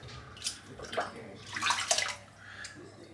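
A silvertip shaving brush is rinsed under running water, with close splashing and sloshing that swells and eases in uneven bursts. No one speaks.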